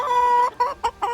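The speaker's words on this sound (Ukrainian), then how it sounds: "Дивіться, курочки їдять, а півник ходить, спостерігає, теж дуже хочеться, але чекає." Silkie hens cluck close by while feeding, a drawn-out call followed by three short clucks in quick succession, with a rooster nearby; no voices are heard.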